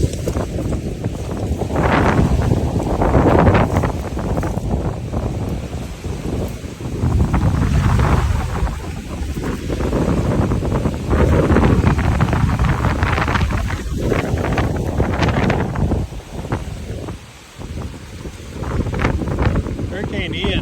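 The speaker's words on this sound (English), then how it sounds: "this wind is not letting up" Strong wind from Hurricane Ian during a squall roars and buffets the microphone without letting up, loud and close, with gusts surging and easing, heard outdoors near water.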